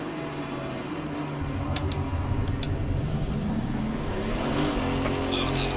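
Several GT4 race cars lapping Zandvoort circuit in Assetto Corsa Competizione, a steady blend of engine drone from passing cars with rising and falling revs, moderately loud and continuous throughout.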